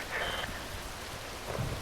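Steady rain hisses through a scene in the video game Metal Gear Rising, a constant soft wash with faint low rumbles underneath and no voices.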